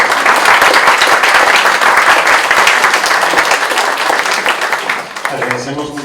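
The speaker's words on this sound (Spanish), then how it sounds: "Les damos un aplauso." An audience claps loudly after a lecture on criminal evidence standards, a thick, rapid patter of many hands that slowly thins and fades toward the end.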